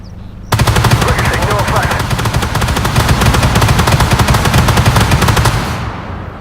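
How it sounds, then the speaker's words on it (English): A 20mm autocannon in the Armoured Warfare tank game fires a long, unbroken burst of rapid rounds for about six seconds, loud and close, with a steady rhythmic chatter and no talk. "this little bit here, is for my 20mm autocannon"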